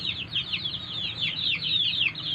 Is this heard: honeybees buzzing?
no